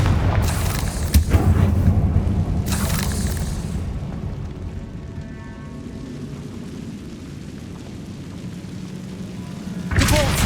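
Confringo fire spell blast in the Hogwarts Legacy video game: a booming explosion near the start, a second burst around two and a half seconds, then a low rumbling tail and another burst at the end, with no talk.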